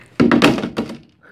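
A phone thrown by a student lands with a sharp, close thud, followed by a short run of rattling knocks that quickly fade.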